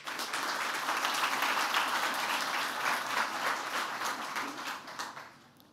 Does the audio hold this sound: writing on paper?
no